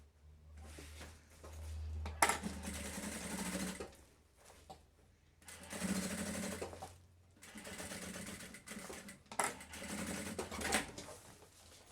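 Sewing machine stitching and backstitching a thermal lunch bag, three bursts of fast, rattling needle motion with short quiet pauses between them, close and clear.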